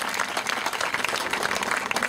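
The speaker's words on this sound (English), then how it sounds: "round of applause." An audience at a sports camp talk bursts into brief applause, a short, steady patter of many hands nearby, fairly loud and with no speech over it.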